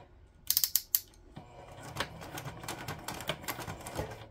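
A Juki 2010 sewing machine starts up with a few sharp mechanical clicks, then settles into a rapid, rhythmic stitching clatter up close, with no voices.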